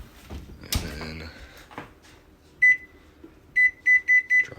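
An oven control panel beeps as its temperature and timer are set: a single sharp electronic beep, then a quick run of four more in close succession, loud and near, following some handling clatter in a kitchen.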